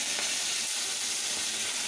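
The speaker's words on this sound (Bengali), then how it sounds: "সরিষার তেলে চিংড়ি মাছ ভাজি" Prawns frying in hot mustard oil, a dense, even sizzle and crackle up close that runs continuously through the moment, with no talk.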